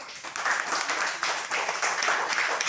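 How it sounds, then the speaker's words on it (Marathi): Children clapping their hands together in a classroom, a dense, fairly loud burst of many small hands applauding continuously with slight swells, nothing else standing out. "एकदा टाळ्या वाजवून दाखवा कशा वाजवतात तुम्ही."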